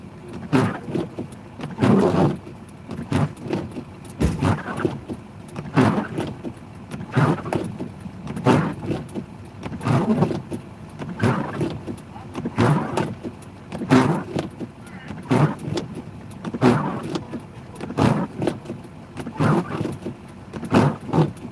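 Inside a pickup truck plowing snow, a low cabin rumble runs under regular rhythmic thumping bursts about every second, with a voice speaking now and then.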